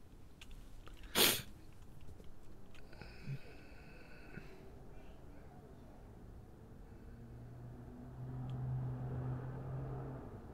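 A single sharp sneeze bursts out near the start of a GTA casino scene, loud and brief, then gives way to a low, steady game ambience with faint tones and no talking.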